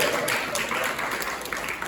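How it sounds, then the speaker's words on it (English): An audience at a children's awareness program claps in a steady, dense burst of applause that carries evenly through the moment without letup. "Let's give her a round of applause."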